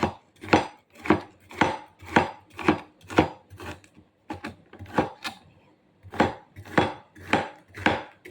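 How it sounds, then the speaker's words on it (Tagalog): Knife chopping onion and garlic on a cutting board, a steady run of sharp close thuds in quick rhythm with a short pause midway, no voices. "Maghihiwa na lang ako ng sibuyas at bawang."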